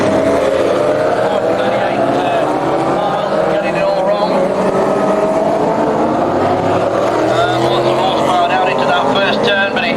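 Banger racing cars roaring off at the start of a 15 lap final at Warton, a dense, loud wall of engine noise rising in pitch as the field accelerates, with a commentator talking over it.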